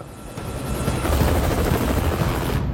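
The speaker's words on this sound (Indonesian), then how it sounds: "dia lebih memilih kabur menggunakan helikopter menuju ke Maseru daripada harus membunuh Tiger" A helicopter in an action escape scene roars with dense, steady rotor wash and engine noise, loud and close, holding level throughout with no speech over it.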